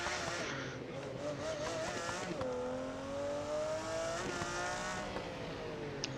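A McLaren F1 car drifts in the BeamNG driving game, its engine droning with a high whine that slides down and back up in pitch as the revs shift, steady and continuous.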